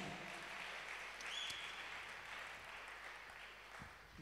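A church audience applauding loudly during a preaching session, steady broadband clapping filling the whole stretch without pause, with a brief whistle-like tone rising above it.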